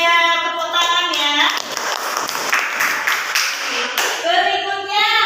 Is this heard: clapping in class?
yes